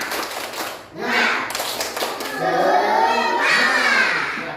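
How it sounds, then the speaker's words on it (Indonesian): A school class performs a rhythmic spirit clap, tepuk semangat, with sharp patterned hand claps close by, followed by children chanting and calling out together in loud bursts. "Ulang, ulang lagi sekali. Tepuk semangat."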